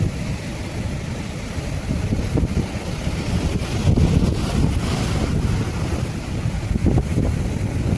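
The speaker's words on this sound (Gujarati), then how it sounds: "જુઓ કેવા મોજા ઉછળે છે" Surging sea waves churn and slosh around a fishing boat heading out under a heavy roar of wind buffeting the microphone, loud and continuous throughout with no voices.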